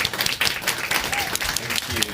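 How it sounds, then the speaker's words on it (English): Short burst of audience clapping for a chef at an indoor climate-week talk, dense and fairly close, with a voice faintly over it. "Please give Kelly a round of applause"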